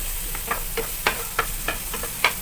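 Onions crackle in hot oil in a pan of chicken curry with ginger, giving sparse, light pops and ticks at irregular intervals over a faint, steady sizzle. No one speaks.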